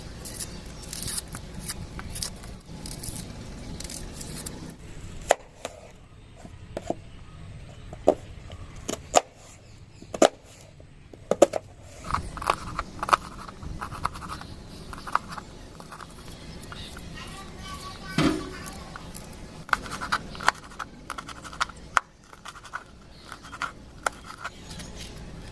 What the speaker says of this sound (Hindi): तो अभी इन 3 सब्जियों को छोटा छोटा काट के ना इधर इन मटर और आलू में डाल देना है।